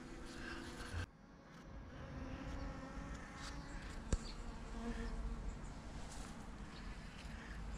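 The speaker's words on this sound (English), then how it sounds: "Just a short video on the bees gathering pollen." Bees gathering pollen among epiphyllum orchid cactus flowers, a steady close insect buzz running throughout with a soft background hum and no talking.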